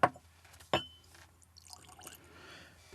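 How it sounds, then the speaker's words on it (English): Glenlivet 12 single malt Scotch whisky is poured into a glass. A sharp clink of glass opens the sound, a second clink follows, then a soft trickle of liquid runs on quietly with no talk. "Do a little bit of a pour."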